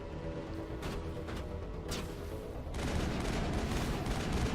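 Gunfire in the video game Mass Effect sounds as a steady stream of clattering shots with a few sharper cracks, growing denser and louder near the end, with no talk over it.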